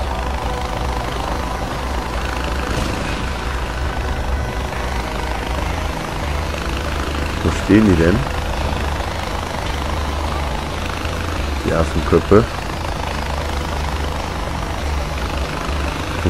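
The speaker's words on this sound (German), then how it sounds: "Ach, jetzt kommt da auch noch ein Helikopter." In Far Cry 4, a helicopter approaches as a low, steady rotor drone that holds throughout, with a couple of brief German voices speaking over it midway.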